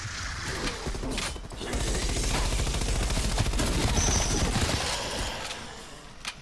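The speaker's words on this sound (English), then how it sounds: "I'm gonna have to shoot these out of there." Rapid automatic gunfire rattles almost continuously at zombies in Call of Duty Black Ops Cold War's Die Maschine, a dense, loud mechanical burst that swells after a short lead-in and tapers near the end.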